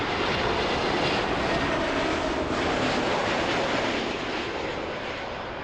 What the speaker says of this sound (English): here comes a plane. This is an Air Transat coming in from Dublin